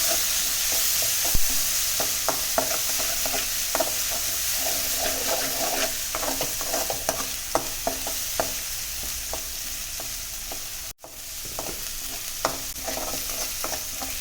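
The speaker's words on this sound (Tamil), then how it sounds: "இஞ்சி பூண்டு பேஸ்ட்டு போட்டுக்கலாம் சேர்த்துக்கலாம்" Ginger garlic paste sizzles steadily in a hot pan for a chicken curry, with a constant fry hiss broken by frequent scraping stir strokes and one brief dropout near the end; no talking.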